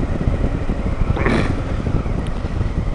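Honda Africa Twin CRF1000L motorcycle riding on a gravel road, a steady rumbling engine drone mixed with wind buffeting, close and continuous.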